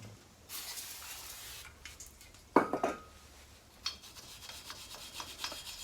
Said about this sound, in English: We want to clean off with brake clean and a wire brush where the